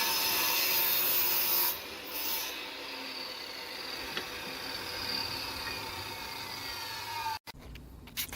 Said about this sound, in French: on a sablé le bois